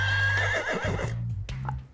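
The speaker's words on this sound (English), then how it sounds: "That is a horse with a saddle." A saddled horse whinnies in a survival video game, one loud, close neigh that trails off, followed by a few softer snorting sounds.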